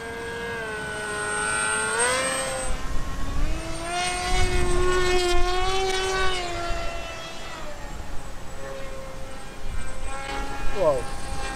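A MiniTalon FPV model airplane's propeller whines in flight, its pitch rising and falling as the plane speeds up and turns, loud and continuous.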